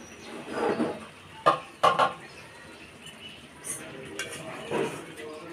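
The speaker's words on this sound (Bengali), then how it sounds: "আবারও কিছুক্ষণ নেড়ে চেড়ে আপু এটাকে মাংসটা মেশানোর জন্য রেডি করছে" A utensil clinks and scrapes in a pot of chicken khichuri several times, with close metallic knocks around the middle and softer stirring sounds between them, and no voice present.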